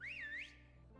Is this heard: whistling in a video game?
yes